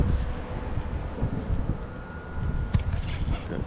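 Wind from an incoming storm buffets the microphone continuously as a low, rough rumble, with a few faint knocks and no speech.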